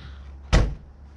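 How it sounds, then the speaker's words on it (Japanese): A gull-wing door on a sport compact car swings and shuts with a single loud, sharp thump halfway through, against quiet low background hum. "このガルウィングドア。"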